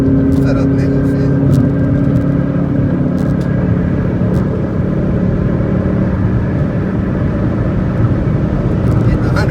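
Car driving on a Houston road: a loud, steady low rumble of engine and tyres from inside the vehicle, continuous throughout with no talk.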